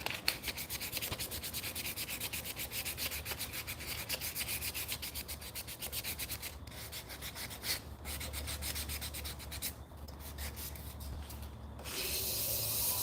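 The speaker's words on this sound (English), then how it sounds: "I'm just sanding with the grain, get the little circular marks out." Hand sanding of a cherry wood spice jar along the grain, a steady close scratchy rubbing that runs nearly without pause and briefly breaks a few times, with no talking.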